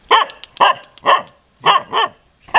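A dog barks sharply close by, giving six loud barks in an uneven rhythm with short pauses between them and no voices.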